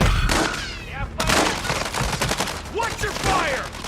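Gunfire in Call of Duty Warzone 3 DMZ, sharp bursts of shots and crackling reports mixed with in-game radio voices calling out, loud and busy.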